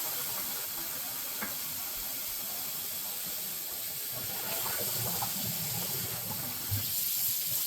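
Cold tap water pours steadily while tie-dyed nylon mesh is rinsed under it, a continuous close hiss and splash with small shifts as the fabric moves through the stream.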